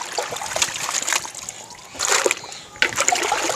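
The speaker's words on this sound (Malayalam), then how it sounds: "കഴുകി വെള്ളത്തിലേക്ക് മാറ്റി വേറൊരു വെള്ളത്തിലിട്ടാൽ മതി." Sliced potatoes for crispy chips are rinsed and dropped into a bowl of water, making close, fairly loud splashing and sloshing in several bursts as the slices are swished and moved.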